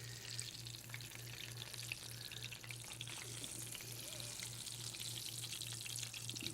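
Food fries and crisps in a hot pan with a continuous faint hiss and crackle over a low steady hum, never pausing.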